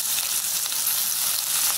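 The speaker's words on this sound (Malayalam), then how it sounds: "ചെറുതായിട്ടൊന്ന് വഴറ്റി എടുത്താൽ മാത്രം മതി." Sliced onions sizzle and fry steadily in hot oil in a pan while cooking a Kerala fish molly, a close, continuous crackling hiss with no voices.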